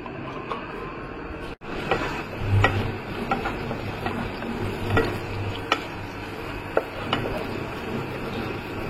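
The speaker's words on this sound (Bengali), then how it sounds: "এবার ফোড়নে দেব একটু গোটা জিরে, একটা শুকনো লঙ্কা আর একটা তেজপাতা।" Whole cumin seeds, a dried red chilli and a bay leaf crackle in hot oil as they are stirred, with soft continuous sizzling broken by sharp pops and scraping clicks, close and fairly quiet.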